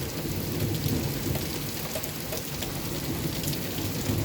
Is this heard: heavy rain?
yes